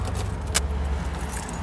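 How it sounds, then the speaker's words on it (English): Keys jangle and clink into the lock of an old luxury car door outside on a street, a brief metallic rattle with one sharp click over low traffic rumble. "We're unlocking our luxury car door."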